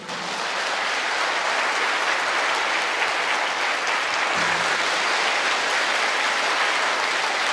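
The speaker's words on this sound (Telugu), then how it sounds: "మనకి చప్పట్లు తెలియజేయాలి" Audience applause at an inspirational meditation talk: a dense, steady wash of clapping that stays loud and even from start to finish, with no voices over it.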